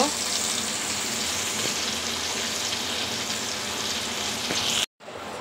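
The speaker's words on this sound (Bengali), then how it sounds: "এখন আমি আলুগুলি ভেজে নিব" Potatoes frying in oil over low heat for a beef kacchi biryani give a steady, continuous sizzle at close range, unbroken until a brief cutoff near the end.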